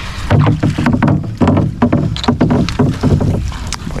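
Repeated splashing pulls as a small boat is dragged through shallow water, in an uneven rhythm of surges, wind noise underneath, no talking.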